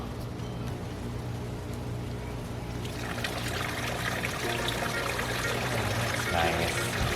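A small, low-key pump sends water trickling down a backyard bamboo waterfall into a tropical garden. The soft, continuous splash swells and grows brighter partway through as the flow picks up. The sound is close and steady, with no speech.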